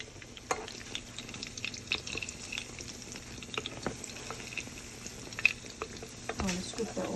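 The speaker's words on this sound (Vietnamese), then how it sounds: "I'm going to scoop the oil and put it on top to make it even. Evenly. Fry 2 minutes on each side." Fish cakes frying in oil in a pan, a soft steady sizzle with scattered crackles and pops, fairly quiet and close.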